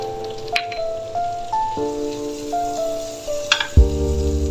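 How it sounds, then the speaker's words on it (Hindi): Masala with tomatoes and chillies fries in ghee for chana mash daal, a steady crackling sizzle close by, with scraping stirs and clinks of a spoon against the pan. "अभी थोड़े से और हम लोग इसको अच्छे तरीके से भूनेंगे जब तक कि घी बिल्कुल ऊपर ना आ जाए"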